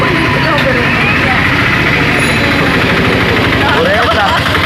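Road traffic with idling engines rumbles loudly and continuously up close, a dense low drone with voices mixed faintly into the noise.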